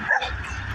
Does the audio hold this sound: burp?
no